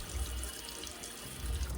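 Water runs from a tap at a salon sink while hair is being detangled, a steady close rushing flow with low rumbles and no speech.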